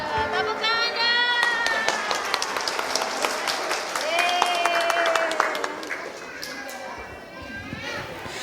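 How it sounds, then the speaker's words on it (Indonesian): Children at a kindergarten Ramadan sermon event clap and cheer together, a busy burst of applause mixed with high kids' voices and shouts, fairly close and sustained before fading. "Tepuk tangan dong."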